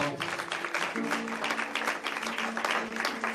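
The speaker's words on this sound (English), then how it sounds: "please give the panel a round of applause" Audience applause for a panel at a weekly Tuesday morning forum, a dense steady patter of many hands clapping with no break for the few seconds it lasts.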